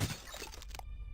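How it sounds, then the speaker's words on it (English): Glass shatters in the video game Cultic, a sharp crunchy smash with scattered tinkling fragments over about a second, ending abruptly in near silence. "Interesting glass noise."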